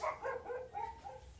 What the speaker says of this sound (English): The dogs outside are barking now.